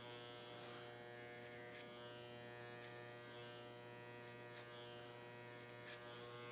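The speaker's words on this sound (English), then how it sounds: "we'll leave the clipper in the open position and start to scoop out that tail" Electric hair clippers with the blade set open buzz steadily and continuously while cutting a man's short hair, a close, constant motor hum with faint crisp snips as the blade moves through the hair.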